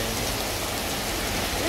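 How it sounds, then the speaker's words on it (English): Steady, dense autumn rain pours down in London, a constant wash of hissing noise that stays even throughout, with no voices and no breaks. "I know it's a shower, but this is a heavy shower"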